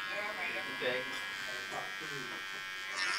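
An electric hair trimmer buzzes while cutting hair during a low fade and pointed beard cut at a barber's chair, humming in short varying passes beneath continuous talk.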